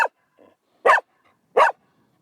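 A female truffle-hunting dog barks out in the field, two sharp, loud barks a little over half a second apart after a brief yip, close and with nothing else heard.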